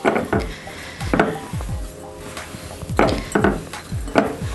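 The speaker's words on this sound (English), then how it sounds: "it will be more efficient to ditch the spoon and go in with your hands" A sticky matcha energy bite mixture is pressed and squished by hand in a bowl, giving a few close, soft, wet squelching pushes separated by short pauses.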